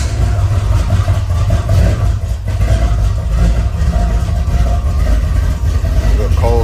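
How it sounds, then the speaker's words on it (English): Engine running just after a cold start on a car being restored, a steady loud low rumble with uneven idle pulsing heard close up, continuing throughout without pause. "Good cold start on it."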